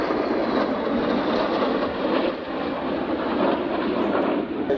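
Steady roaring jet engine noise from a Rafale Marine fighter jet at an air show in Biscarrosse, loud and continuous, with a broad rushing hiss and no voices.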